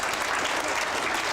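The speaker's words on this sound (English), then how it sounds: "Let's give Mary a big round of applause." An audience at a science museum demonstration applauds in a short, dense, even burst of many hands.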